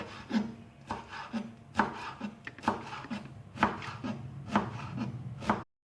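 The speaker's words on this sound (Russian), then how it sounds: "И меленько нарезаю укроп." Rapid, crisp knife strokes finely chop dill on a cutting board in quick bursts, a close rhythmic tapping with short pauses between runs.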